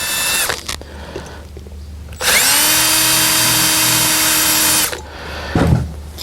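A power drill with the same bit bores out a vent window clip on a 1952 Chevy pickup: a short burst, a pause, then a loud sustained whine for nearly three seconds before stopping, with clattering handling noise around it.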